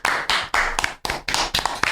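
Hands clap in short, sharp bursts, about six distinct claps over two seconds, close and fairly loud, with no talking.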